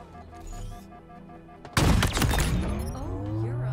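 A powerful gun fires in Halo Infinite, a sudden loud, sharp burst of shots erupting after a quieter moment, followed by ringing, decaying game effects, with no speech.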